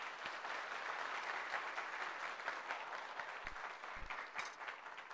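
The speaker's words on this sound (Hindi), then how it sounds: "बड़े जोश नाल एक बार ताली बजा के स्वागत करांगे।" Audience clapping fills the hall to welcome a newly installed shrine statue at a devotional gathering. The applause is steady, dense and moderately loud, running throughout without speech.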